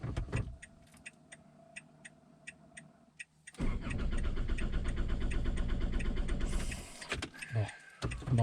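A camper van's starter cranks with a rapid, steady ticking for a few seconds, then the engine catches and roars up to a loud, even idle close by, with a brief dip and a sharper mechanical sound near the end.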